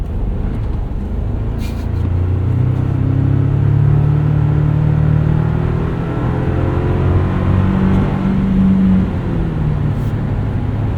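A 2024 Toyota Tacoma SR5 XtraCab 4x4 pickup with an 8-speed automatic, driven at night in power mode, gives a steady, loud engine rumble and drone from inside the cab that rises slightly as it accelerates, with no talk.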